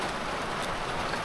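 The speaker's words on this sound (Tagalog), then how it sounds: "tutuloy na kami at malakas ng ulan" Heavy rain falling outdoors, a loud, dense and continuous hiss of downpour that fills the whole short stretch, with no voices over it.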